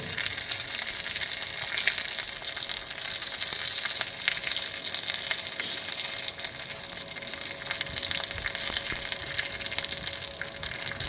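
Dried red chillies crackle and fry in hot tempering oil for rasam, a steady close sizzle with no talk and no pauses throughout.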